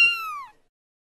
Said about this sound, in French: un exemple célèbre est la vidéo de Petit Chat sur YouTube.